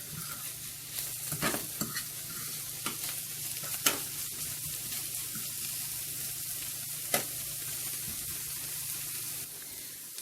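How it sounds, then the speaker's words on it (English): Saltfish frying in a pot with steady sizzling and crackling throughout, punctuated by a few sharp clicks and stirring scrapes, close and alone with no talk. "So I'm going to fry these first"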